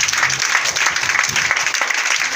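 A church congregation applauds in steady, dense clapping that fills the room, loud and continuous from start to finish.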